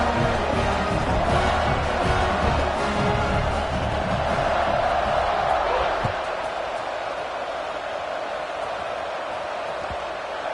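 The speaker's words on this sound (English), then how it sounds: "this crowd is buzzing after that last score" A football stadium crowd at a college game keeps up a loud, steady roar after a score, dense broadband noise that eases slightly partway through, with a commentator speaking over it.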